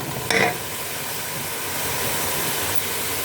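Spiced food sizzling in a cooking pan on the stove, a steady close hiss that holds on throughout with a brief louder burst near the start, no talking.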